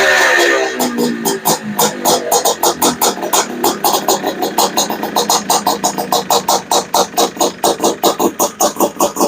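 Honda Odyssey FL350 buggy engine idling close by, a loud rapid chugging pulse that settles into a steady, slightly uneven rhythm of regular beats, with no talking over it.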